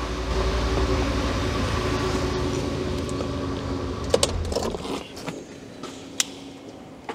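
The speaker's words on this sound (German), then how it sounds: "Ich mache nochmal Auto aus, dann hört man mich wieder besser." An Audi S6 V10 with an idle mixture fault rumbles at a steady idle for about five seconds, then is switched off and falls quiet, leaving only a few small clicks and rattles close by.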